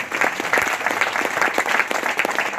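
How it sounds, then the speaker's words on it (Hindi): An indoor business-event audience claps loudly and steadily, a dense continuous wash of hand claps with no voices over it. "उनके लिए भी जोरदार तालियां"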